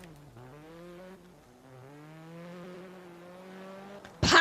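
Peugeot race car in the Forza racing game accelerating alone, a steady engine whine rising through gear changes across the clip, ending in a sudden loud burst.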